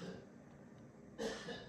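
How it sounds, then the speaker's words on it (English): A man coughs once in the background, a short harsh burst near the end following a stretch of quiet room noise. "sorry if you hear my husband coughing."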